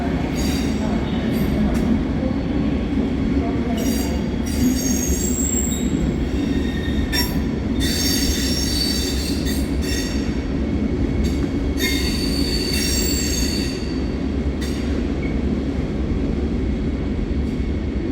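A regional train at a platform in Cologne main station gives a loud, constant rumble with repeated high wheel squeals coming and going across the whole stretch.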